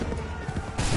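Musket volley ringing out in Assassin's Creed 3 battle, a dense crackling burst of many shots over a noisy din that swells louder near the end.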